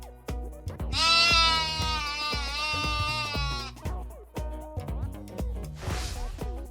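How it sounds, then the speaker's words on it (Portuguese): One long, quavering sheep bleat rises over a bouncy percussive music track, holds for a few seconds, then stops, leaving the beat to carry on. "E a resposta é da ovelha"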